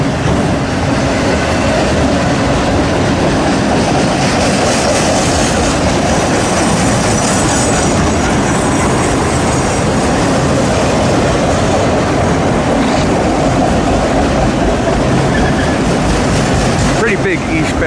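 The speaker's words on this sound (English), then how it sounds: "Pretty big eastbound auto rag train here, and there's vehicles in these" A long, heavy eastbound auto rack freight train rolls steadily past on the Harrisburg line, a dense continuous roar of rail noise with wheel clatter and a brief high screech near the end.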